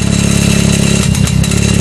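A 1997 Mazda engine with a modified exhaust revs loudly up close, a harsh, buzzy drone that swells briefly in the middle before settling back.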